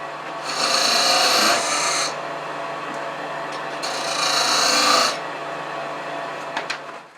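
A beading and parting tool cutting wood spinning on a lathe while a replica St Patrick's cross is turned, a close, steady hissing scrape in two long passes with a quieter motor hum between them.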